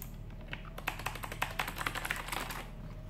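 Typing on a Fuhlen Subveter RGB mechanical gaming keyboard with sturdy plastic double-shot keycaps: a steady, close run of crisp clacking keystrokes with no voices.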